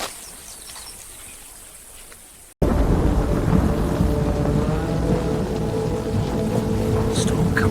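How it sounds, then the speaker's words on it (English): Thunderstorm with heavy rain: a quiet stretch, then a sudden loud, sustained roar of rain and rolling thunder that fills the rest of the clip. "Storm comes fast."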